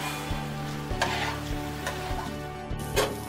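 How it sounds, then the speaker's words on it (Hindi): Rice and lentils frying in hot ghee with cumin in a cooking pot, a steady close sizzle with a few sharp stirring scrapes and clinks, and no voices. "अब इसमें धोए हुए चावल और दाल डालकर कुछ देर भूनें।"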